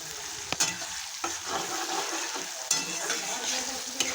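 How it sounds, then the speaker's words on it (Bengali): Chopped onion and tomato fry in mustard oil in a wok, a steady close sizzle with occasional sharp knocks and scrapes of stirring. "এখন পেঁয়াজ আর টমেটো আমি লাল করে ভেজে নিচ্ছি"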